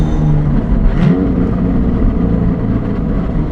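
A Porsche 718 GTS 4.0 engine rumbles loudly and steadily up close, with a brief rising rev partway through and no voices.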